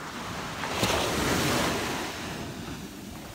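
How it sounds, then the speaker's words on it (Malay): Sea waves break on a beach in one soft surge that swells and recedes over a constant wash of surf and wind buffeting the microphone. "pantai dengan air laut kat korang"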